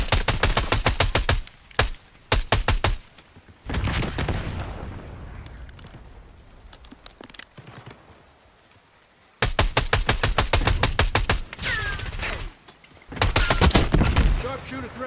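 Rapid bursts of video game gunfire, loud and close, crackle in clusters with brief gaps, and a quieter stretch of softer firing in the middle before heavy volleys resume.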